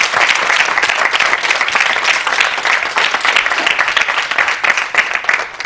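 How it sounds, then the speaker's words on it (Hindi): College students from Delhi applaud at a special event, loud, dense clapping sustained throughout without a break. "अपने लिए ताली बजाएं।"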